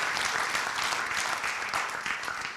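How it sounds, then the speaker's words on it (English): Sustained applause from an audience saluting the men and women of the armed services at a Pro Football Hall of Fame event, dense and steady clapping throughout without pause. "So how about a nice round of applause for all the men and women of our armed services today?"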